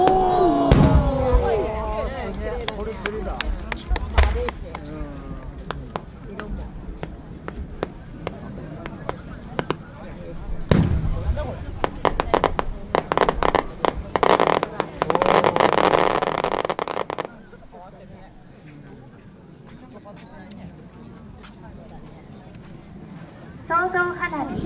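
Fireworks from a Nagano maker's display at the 2014 Omagari national fireworks competition pop and crackle in sharp bursts and rumbling booms, dense then fading to quiet, with crowd voices mixed in.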